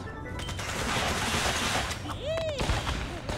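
A knockback grenade blasts in the mobile battle game Zooba amid a dense run of in-game explosions and rattling fire, loud and continuous, with a brief rising-falling tonal effect partway through.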